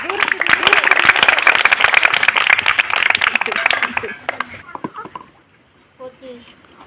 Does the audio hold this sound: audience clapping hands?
yes